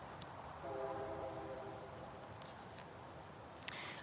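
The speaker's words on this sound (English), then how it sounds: "the train's going off too." A train horn sounds in the distance, a sustained tonal blast held for roughly two seconds over steady low rumble and background noise.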